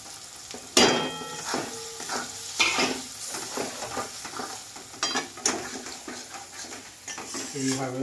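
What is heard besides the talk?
frying and stirring masala for mutton curry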